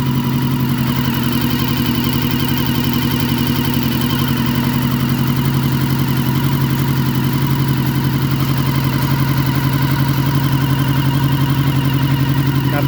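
A Honda CB1 400SF motorcycle, fitted with a computer auxiliary fan and a dirt bike tank, idles steadily and loudly up close with an even, throbbing mid-pitched engine note and no talking.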